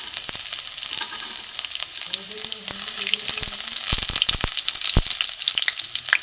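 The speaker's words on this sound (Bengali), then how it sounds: "তেল গরম হয়ে গেছে, জিরে ফোড়ন দিয়ে দিয়েছি। আমি এখানে দেবো রসুন কুচি।" Chopped garlic hits hot oil already tempered with cumin seeds, giving a loud, close, continuous sizzle and frying crackle, with a few stirring clinks and knocks against the pan.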